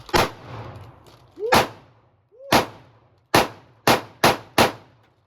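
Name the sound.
pistol gunshots, Springfield Hellcat or Sig Sauer P365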